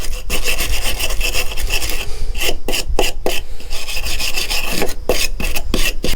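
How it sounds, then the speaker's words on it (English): A wire brush scrubs old gasket material off metal edges, a loud, continuous raspy scraping with rhythmic strokes and brief pauses between bursts, close up and with no talking. "Take a wire brush to the edges. Try to get that gasket off."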